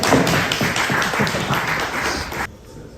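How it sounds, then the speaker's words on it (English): An audience at a hackathon demo session gives a round of applause, many hands clapping close and loud for about two and a half seconds before it stops abruptly. "Round of applause."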